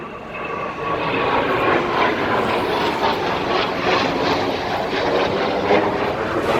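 Military jets roar across the sky over New Orleans, a sustained, fairly loud and distant engine rumble that swells in and holds steady.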